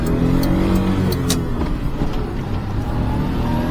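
A Daihatsu Hijet Atrai micro van drives along with a steady, close engine drone and road rumble inside the cabin, holding a fairly constant pitch with no talking.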